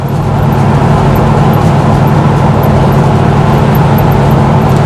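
A 1977 Pontiac Trans Am cruising on the road, a loud constant engine drone and road roar heard from close by, steady throughout with no pauses.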